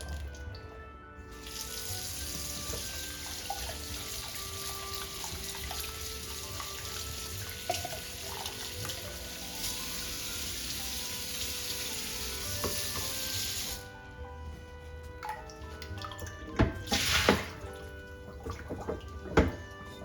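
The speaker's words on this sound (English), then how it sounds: "I'm going to wash this and rinse it." Canned kidney beans rinsed in a sink under a running tap: a loud, steady rush of water for several seconds, then splashes, clinks and handling noises as the flow stops.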